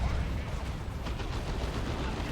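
Battle gunfire in the Dawn of War 2: Retribution strategy game rattles in dense, rapid overlapping shots and heavy booms, loud and continuous throughout.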